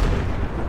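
Explosion in Battlefield 4 multiplayer, a loud, sustained low rumbling blast filling the whole moment with dense booming energy.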